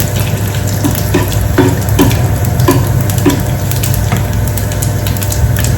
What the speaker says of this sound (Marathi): कढीपत्ता, लसूण चांगला ब्राऊन करून घ्यायचा आहे.